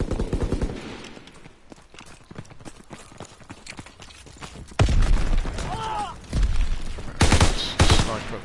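Gunfire crackles in the Call of Duty WWII beta on PS4, rapid bursts of shots with louder volleys and sharp cracks later on, mixed with battle noise.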